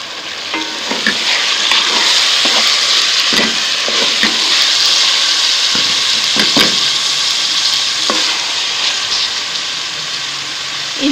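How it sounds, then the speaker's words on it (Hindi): Loud, steady sizzling of tomatoes, garlic-ginger paste and green chillies frying in a pan for chicken biryani, with occasional stirring scrapes and clinks throughout. "इन सबको मैं 5 मिनट तक भून लूंगी।"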